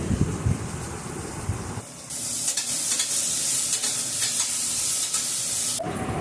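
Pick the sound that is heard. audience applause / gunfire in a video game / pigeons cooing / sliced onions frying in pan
sliced onions frying in pan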